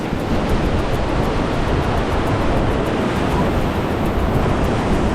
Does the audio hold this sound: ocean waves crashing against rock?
yes